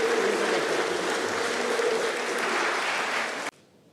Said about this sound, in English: A round of applause for Gibson.